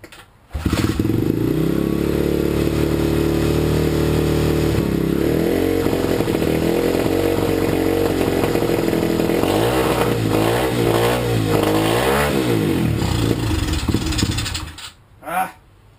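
A cold SDG/SSR 125 pit bike engine runs loud and close, revving up and down repeatedly in uneven bursts before it cuts out near the end.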